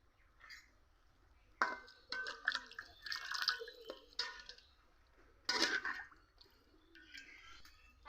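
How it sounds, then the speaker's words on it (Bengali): A little water poured into mustard fish curry with shorputi fish, heard as light splashes and drips in a few short, fairly quiet bursts with no one speaking. "অল্প করে জল দিতে হবে।"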